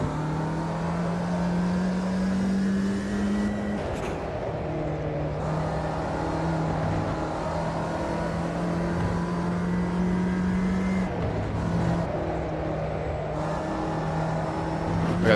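Race car engine in Assetto Corsa Competizione, a steady loud droning roar with pitch steps at gear changes, holding near-constant revs with brief shifts and a whirring mechanical edge throughout.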